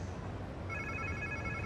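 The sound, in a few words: phone ringing in Marvel Spider-Man 2 video game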